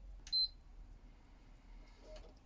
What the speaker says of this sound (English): that's the start beep.